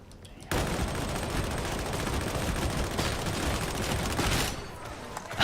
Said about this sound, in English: I love the fast fire mode on this gun.